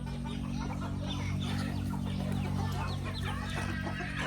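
Native chickens on a farm clucking, scattered calls over a steady low hum, fairly faint and somewhat distant.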